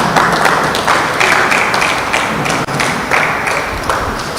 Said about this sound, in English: Another round of applause to our president